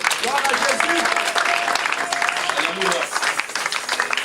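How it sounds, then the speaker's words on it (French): A church congregation applauds loudly and steadily, a dense close wash of clapping with voices calling out over it throughout. "Tu peux l'acclamer très fort"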